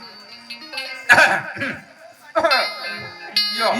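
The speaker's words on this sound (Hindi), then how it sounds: "खांस रे खांस" A couple of sharp coughing bursts, close and fairly loud, separated by pauses and mixed with bits of voiced sound, during a Chhattisgarhi nacha folk comedy performance.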